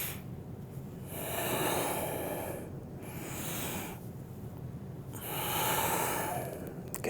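Deep, steady breathing during a full-body mobility warm-up, with three long airy inhale and exhale cycles heard close up and no talking.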